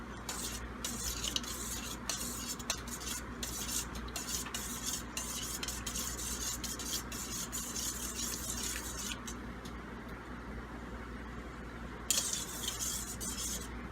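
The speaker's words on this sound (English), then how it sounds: "I'm going to go ahead and stir that up." A spoon scrapes and swirls steadily against a pot of lemon garlic dipping sauce, a continuous close stirring rasp with faint liquid sloshing and no talk.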